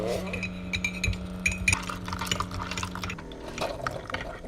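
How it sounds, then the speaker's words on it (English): Six ounces of hot water pours into a mug of cinnamon drink while a spoon stirs it, a steady close liquid trickle with light clinks of metal against the cup, no talk. "Hot water, 6 ounces. And I stir it while it's coming."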